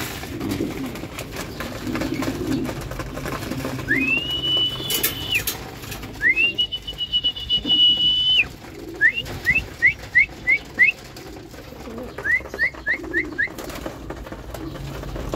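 An Aparri clocker racing pigeon coos softly and repeatedly nearby, with long high whistling tones and short chirp-like runs standing out above the low cooing in a fairly quiet space.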